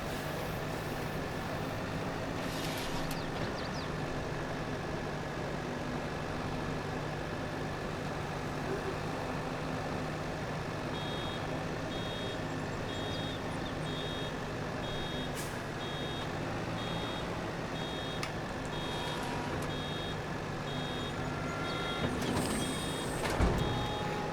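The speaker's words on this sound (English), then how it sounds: "this tractor has no problem at all with this baler." A tractor pulls a baler across a field in Farming Simulator 22, giving a steady, continuous engine drone with a constant mechanical hum throughout, and a faint beeping appears near the end.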